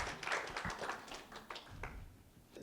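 Scattered audience clapping for a Samsung product manager at a business talk, fairly sparse and uneven, with a few distinct hand claps standing out over a low room murmur.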